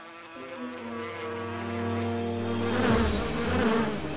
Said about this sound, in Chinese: 蜜蜂在你的鼻子上